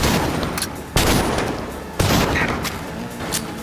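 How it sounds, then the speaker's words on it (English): Heavy gunfire in Cyberpunk 2077, loud continuous automatic weapon bursts and rattling shots filling the whole stretch, with two sharper impacts standing out, close and intense. "Under heavy fire!"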